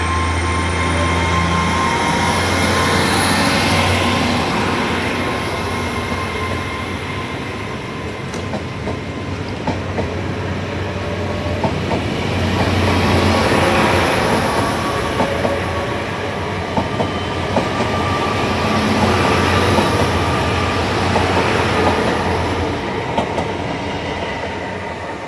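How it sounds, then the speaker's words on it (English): A Great Western Railway Class 800 train departs Worle station with a continuous, steady rumble of wheels and running gear that swells and eases over about twenty-five seconds, with no voices. "That's 800 307 heading into Western."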